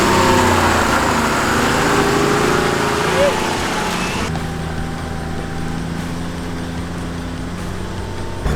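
A 4x4 climbing a steep hill on a bush track near Eungella in the Mackay region of Queensland, its engine droning loudly at first and then settling to a steadier, quieter hum, with voices talking nearby.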